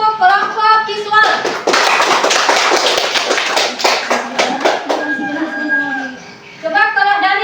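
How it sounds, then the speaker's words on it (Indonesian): Students in a classroom lesson clap for a presenting group, a dense burst of applause from many hands lasting a few seconds, with voices speaking before and after it. "coba tepuk tangan untuk kelompok visual"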